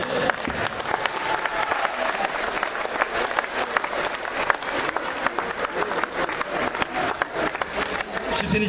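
Sustained applause from parents and spectators at a judo tournament, a dense steady roar of clapping hands filling the hall throughout, with faint voices mixed in.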